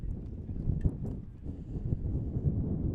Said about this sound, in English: Wind gusting a bit here at Warren.